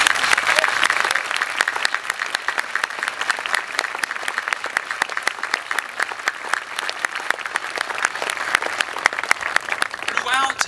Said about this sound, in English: I think it's appropriate that tonight we give Officer Phillips a round of applause.